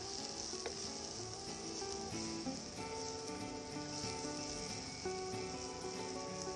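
Red chili powder being stirred into hot oil for a mashed-potato bharta: a faint, steady, even sizzle that hisses continuously without breaks.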